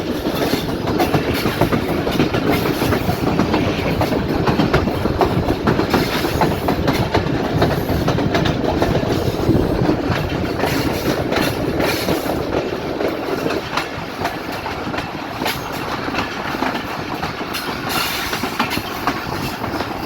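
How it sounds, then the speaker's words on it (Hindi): The Rehaman Baba Express passenger train between Taxila and Rawalpindi rolls along the rails, a continuous loud rumble with rhythmic clickety-clack of wheels over joints, heard from on board with no talk. "अब हमारी ट्रेन राइट साइड पे मूव कर रही है"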